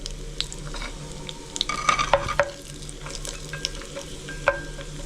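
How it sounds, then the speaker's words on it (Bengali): Whole garam masala and two bay leaves sizzling in hot oil over a high flame, a soft steady crackle broken by a few sharp clinks and scrapes as the spices are stirred. "গোটা গরম মশলা সেটাও দিয়ে দিলাম"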